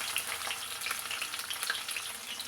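Cumin, mustard seeds, chillies and onions fry in hot oil in a pan, crackling close up with a steady sizzle and scattered sharp pops, and no voices.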